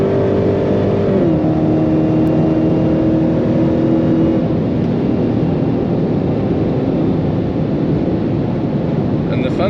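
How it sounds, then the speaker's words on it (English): A Dodge Charger Hellcat in track mode roars steadily under hard acceleration, its engine note dropping at a gear shift, loud and continuous inside the cabin. "with every shift that you do, you feel the car clutching and getting the full power on again in a really, let's say, racy way"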